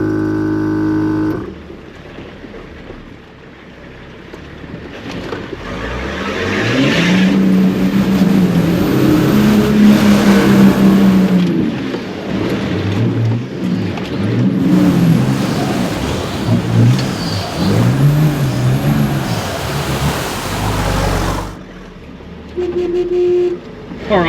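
A $1000 four-wheel-drive vehicle with a blown clutch revs hard through a deep, rough boghole. The engine climbs to a loud, sustained roar, surges and strains for several seconds, then drops back to a lower idle.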